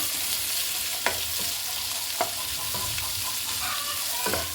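Three or four medium onions sauté in a pan for kuzhimandi, a continuous close sizzle with a few sharp stirring scrapes and clinks of a spoon against the pan, no voices.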